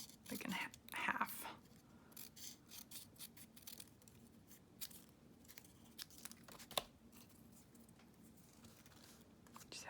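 Scissors snip through strips of paper for Bible journaling, with quiet, irregular cuts and crinkles close by under soft, low talk.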